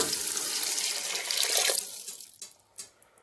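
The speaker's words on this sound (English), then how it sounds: "we're gonna add 2 cups of water" Two cups of water rush in a steady stream into a cooking pot for under two seconds while making sloppy joes, then taper off into a few splashes and drips, with no one talking.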